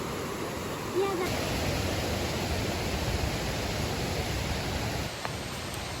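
A forest waterfall near Budhanilkantha rushes as a dense, steady broadband roar, filling the scene evenly throughout, close and constant.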